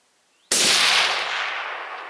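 A single rifle shot fired at a full-figure target 420 meters away on a shooting range cracks loud and close after a quiet start, then trails off in a long, fading echo.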